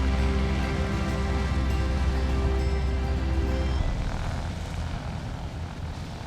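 A propeller aircraft flies over the Albères massif in the Pyrenees near the Spanish border: a steady, humming engine drone that shifts to a rougher, more diffuse roar partway through and stays constant with no voices.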